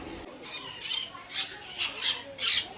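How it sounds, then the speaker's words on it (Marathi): Harsh, raspy parrot squawks repeat in short bursts roughly every half second, fairly close and loud, with no talking, at an aquarium theme park in Sawantwadi. "हे पोपटाची एक प्रजाती आहे"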